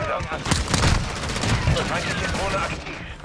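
Gunfire rattles through a Call of Duty: Modern Warfare II multiplayer match in a dense volley of sharp, closely spaced shots, loud and near. A voice talks faintly underneath in places.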